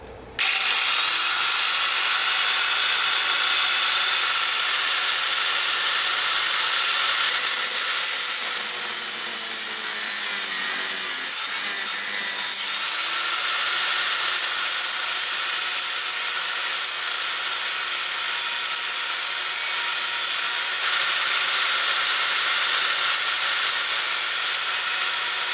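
A power tool cuts a slot in metal and throws sparks, giving a loud, continuous, hissing grind. It runs unbroken for the whole stretch, with only slight wavering in tone partway through.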